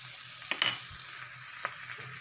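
Gobi aloo shimla mirch sabzi with green chillies sizzles steadily in a pan while a spoon stirs it, giving a couple of short scraping strokes over the constant frying hiss.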